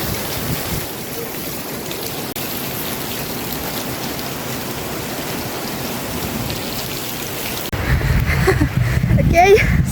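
Heavy, extreme rain pours steadily in Morocco as a dense, close hiss, growing louder and rougher toward the end, with talking over it.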